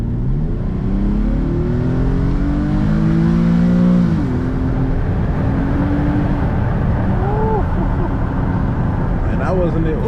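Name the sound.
Infiniti G37 AWD car accelerating in sports mode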